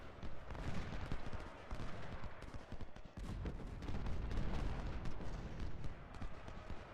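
Musket volleys crackle nonstop in the Civil War strategy game Ultimate General: Civil War, with dense, overlapping rifle fire and occasional heavier booms from a Shiloh battle scene. The gunfire stays loud and continuous throughout.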